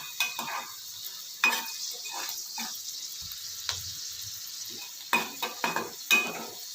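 Chana dal, urad dal and cashews frying in oil until golden, with repeated scraping stir strokes against the pan over a soft steady sizzle and no talking.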